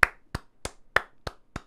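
Six slow, evenly spaced single hand claps, sharp and close, each ringing briefly before the next, like a lone person giving sarcastic applause.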